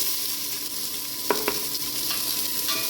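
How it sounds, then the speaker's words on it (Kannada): Chopped onions frying in oil in a pan, steady crackling sizzle up close with two brief utensil scrapes partway through, no talking. "ಇದಾದಮೇಲೆ ಹಚ್ಚಿಟ್ಕೊಂಡಿರೋ ಈರುಳ್ಳಿನ ಹಾಕ್ತಾಯಿದ್ದೀನಿ."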